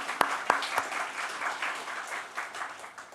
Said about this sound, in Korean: 네, 박수하시죠.